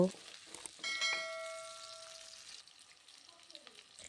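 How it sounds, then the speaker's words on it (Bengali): Onions fry in oil to a light brown, a soft low sizzle in a quiet kitchen, with a brief ringing metallic tone early on and faint clinks near the end. "পেঁয়াজটাকে হালকা ব্রাউন কালার করে নেব"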